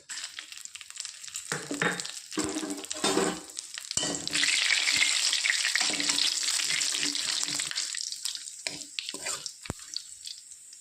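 Bay leaves and whole garam masala with cumin seeds hit hot oil and burst into a loud hissing sizzle that rises sharply, then settles into steady crackling with occasional stirring clicks, close to the pan and free of speech.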